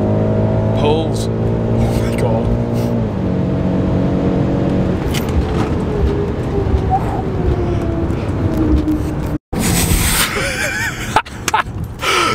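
A BMW M5 F90 engine, over 700 hp, roars loudly as it accelerates hard, the pitch climbing through the gears, with a brief cut and wind noise near the end.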